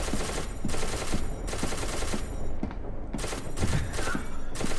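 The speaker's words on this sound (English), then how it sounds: "Noah, don't blame me if I shoot you." Rapid automatic gunfire in the video game SCP Secret Laboratory, with sustained bursts of repeated shots that are loud and close, broken by a brief pause midway.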